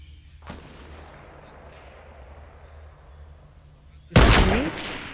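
Gunfire in a Fortnite squad match starts with a sharp crack near the start, and a loud, close burst of shots comes near the end over a low steady background rumble.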